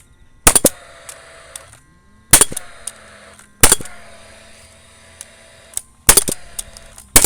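Hammer blows on timber framing at a new house build, landing as sharp loud impacts in uneven clusters, three or four strikes at a time with pauses between, close by and with no talk.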